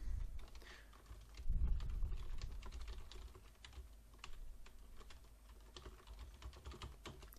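Quiet, irregular clicking of a computer keyboard as subtitle text is typed into Corel VideoStudio Pro X6, close and soft with short pauses between keystrokes; no talk.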